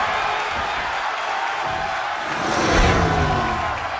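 Arena crowd in the Def Jam wrestling video game, a continuous roar of cheering that swells briefly toward the middle before settling, with no other sounds standing out.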